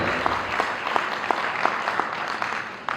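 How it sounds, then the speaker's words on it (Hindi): Audience applause at a Parinam Healthcare Diamond Celebration in Kawardha, welcoming the company's CMD: a steady wash of clapping, moderately loud and continuous throughout with scattered sharper claps. "परिणाम हेल्थ के जन्मदाता सीएमडी सर के लिए मैं जोरदार तालियां चाहूंगा"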